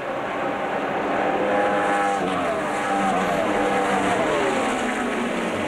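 NASCAR stock cars racing at Darlington, a continuous loud engine roar with rising and falling pitch sweeps as cars pass, heard without talk.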